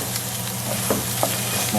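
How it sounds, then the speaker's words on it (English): Diced onion sautés in leftover oil in a pan while green chilaquiles are cooked: a steady close sizzle with a couple of soft stirring scrapes, no one talking. "It's almost like just sauteing the onion with the extra oil that is there."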